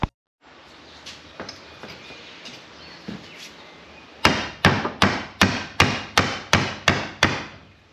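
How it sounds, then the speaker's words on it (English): Light hammer taps on a taped socket pressing a poly transmission mount bushing into an Evo 8. After a few seconds of quiet shop noise, about ten sharp, evenly spaced metallic strikes ring out close and loud. "try to give it a little bit of light hammering"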